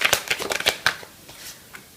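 Tarot cards are shuffled by hand in quick, close flicking riffles that come in a fast run, then thin out into a few softer taps.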